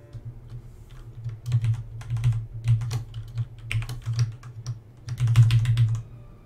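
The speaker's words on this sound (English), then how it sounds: "a DAS keyboard ultimate S or something?" Keys clatter on a DAS Keyboard Ultimate S mechanical keyboard in uneven bursts of fast typing with short pauses, crisp and close, with no talking.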